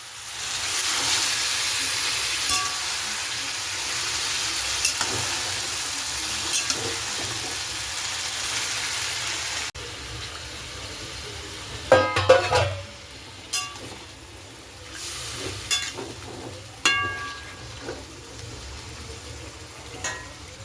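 Marinated chicken fries with potatoes in a pan for chicken kosha: a steady loud sizzle at first, then quieter frying broken by sharp clinks and scrapes of stirring.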